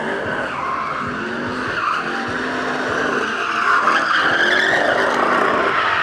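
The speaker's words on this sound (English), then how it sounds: "once he starts drifting, I'm assuming we'll just mainly hear his car." A Pontiac Firebird drifts with loud, continuous tire squeal and a revving engine, the screech swelling and shifting pitch as it slides close by, with no talk over it.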